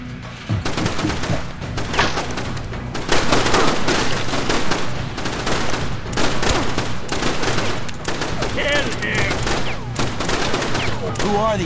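Heavy, continuous gunfire rattles through a rebel attack in the video game Far Cry Instincts: Evolution, with dense overlapping bursts and sharp shots throughout and little pause.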